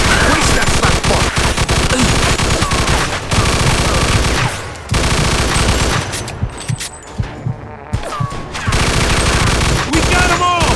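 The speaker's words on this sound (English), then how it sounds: "Stop shooting that fucking thing! I'm going deaf over here!" Dense, loud automatic gunfire in the video game Mafia II, sustained bursts with a brief lull before the shooting resumes, with voices shouting over it.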